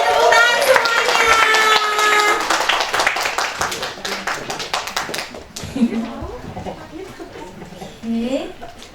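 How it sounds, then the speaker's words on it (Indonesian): A church congregation at a children's Christmas Sunday school service claps for the children in a lively burst alongside music, then the clapping thins into scattered taps while people chatter and laugh nearby. "Boleh tepuk tangan semuanya."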